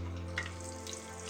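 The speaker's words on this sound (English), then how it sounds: "We are going to start our frying process." Chicken cutlets sizzle in a hot pan with a steady, close frying hiss and soft crackles under a low hum, and no one speaks.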